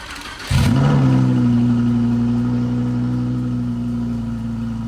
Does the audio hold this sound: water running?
no